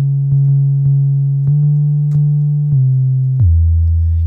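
A deep 808-style sub bass synth built in Massive and processed with Waves R Bass sustains a low, humming tone, retriggered every half second or so with soft clicks and short pitch drops near the end.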